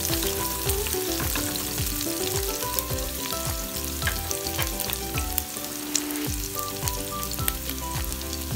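Onion and ginger fry in a pan with a steady, crackling sizzle and stirring scrapes, close and continuous with no talk.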